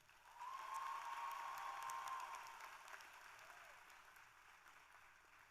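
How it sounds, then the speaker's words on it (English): Graduates at the 2025 John I Leonard Community High School graduation applaud their parents, a broad crowd of clapping that swells quickly, holds steady for about two seconds, then slowly thins to a softer patter heard at a distance. "Graduates, please give your parents a round of applause."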